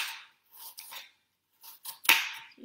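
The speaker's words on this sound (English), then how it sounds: "Another option would just be to take your knife and make really fine slices" Several crisp knife cuts through apples into fine slices on a board, in short separated bursts with quiet gaps between them and a sharper, louder stroke near the end.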